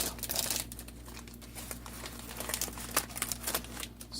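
Plastic packaging of a United Arab Emirates MRE ration being torn open by hand, a continuous close crinkling and ripping rustle with small sharp crackles, heard alone.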